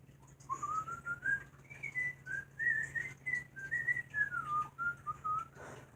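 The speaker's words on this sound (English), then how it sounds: "Mario found himself whistling the tune he had played for Torovsky" A person whistles a wandering melodic tune, clear and fairly close, with short phrases and brief gaps between notes, alone without speech.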